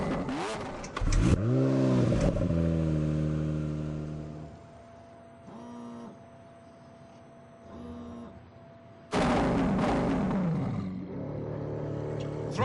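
A 730-horsepower car with no electrical gubbins revs in The Grand Tour Game, its engine roaring up and down loudly in two big bursts, with a quieter idle between them.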